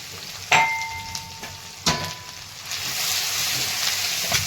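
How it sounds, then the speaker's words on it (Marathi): Curry leaves, grated coconut, garlic and coriander frying in hot oil: sharp spattering pops and clinks of a utensil at first, settling into a steady, close hiss of sizzling. "कढीपत्ता आणि हे जे बारीक केलेलं आहे खोबरं, लसूण आणि कोथिंबीर हे पण टाकून घेतलेलं आहे तेलामध्ये"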